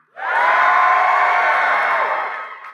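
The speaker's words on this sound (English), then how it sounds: "if you're from Bozeman, Missoula, Bellingham, would you cheer now?" Church conference crowd cheering at a large gathering, a sudden loud burst of shouts and whoops that swells, holds for about two seconds, then fades out, with no single voice standing out.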